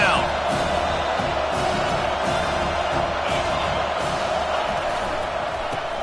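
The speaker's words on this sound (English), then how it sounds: "Decibels rising as the crowd gets behind this defense on 3rd down" Stadium crowd in a college football video game roaring on third down, a steady dense wash of cheering that stays loud throughout, with a voice speaking over it.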